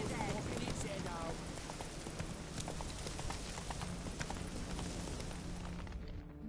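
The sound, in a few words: horse Roach trotting in video game The Witcher 3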